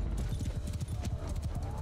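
Cavalry horses gallop in Mount & Blade II: Bannerlord, a close, dense clatter of hooves with a few whinnies on a battlefield. A player's voice talks over the charge.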